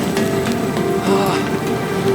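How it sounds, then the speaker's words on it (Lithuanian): Heavy downpour during a long-distance bicycle ride, a steady broadband hiss of rain drumming around the rider, with a low-level voice murmuring beneath it. "Lyja kaip iš kibiro."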